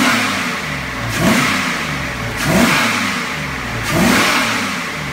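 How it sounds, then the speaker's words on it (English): A freshened 5.3-litre L33 V8 of 310 horsepower revs three times in succession, each blip rising briefly from a steady idle and settling back, close and clear with no talking. "We'll give it a couple revs, see how everything sounds."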